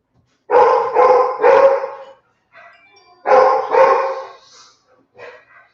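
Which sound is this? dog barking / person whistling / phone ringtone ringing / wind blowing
dog barking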